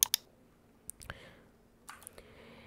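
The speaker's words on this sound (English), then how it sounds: "right click on the account" Computer mouse clicks, a quick pair of sharp taps at the start followed by a few softer, scattered clicks in a quiet room.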